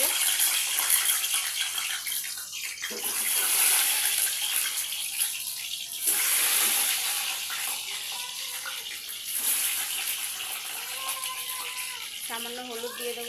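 Peeled boiled eggs dropped into hot oil with chopped onion and tomato in a pan, giving a steady hiss and sizzle with someone talking over it.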